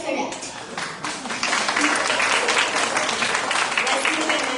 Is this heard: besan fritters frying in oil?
no